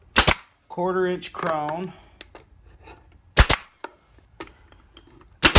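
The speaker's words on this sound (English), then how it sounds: "So what I'm using is a pneumatic stapler, 3/8 inch staple," Three sharp pneumatic stapler shots driving 3/8 inch staples with a 1/4 inch crown into the bottom of hardware bins, loud and close with pauses between, someone speaking briefly between shots.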